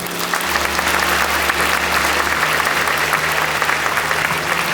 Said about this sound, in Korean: 이제 인사할 때 정말 큰 박수로 축하해 주십시오.